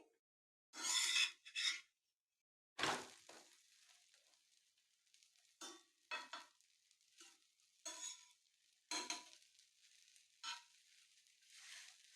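An egg roll fries in a pan in short sizzling bursts, separated by quiet gaps, with a longer crackle partway through and then a run of brief scraping and frying sounds, all close by.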